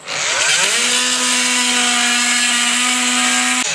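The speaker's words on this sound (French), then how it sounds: "on va prendre une oscillante avec une lame de scie" A cordless oscillating multi-tool with a saw blade whines up to speed and holds a steady, high buzzing drone while it cuts through a nail, then stops abruptly.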